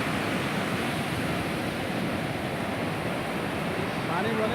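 Sea waves at Gopalpur beach wash in a continuous, fairly loud roar of surf with no distinct breaks, blended with some wind noise.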